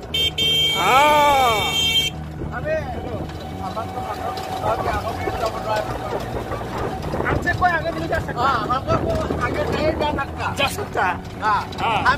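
A long vehicle horn blares loudly for about two seconds, followed by busy street traffic noise, engines and people talking nearby, in India.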